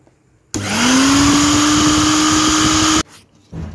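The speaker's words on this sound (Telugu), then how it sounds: "ఇప్పుడైతే మిక్సీ ఒకసారి ఆన్ చేసి చూపిస్తాను మీకు." A loud motorized whir starts abruptly, holds a steady high-pitched hum for a couple of seconds, then cuts off: a Butterfly Magic five-jar mixer grinder running briefly.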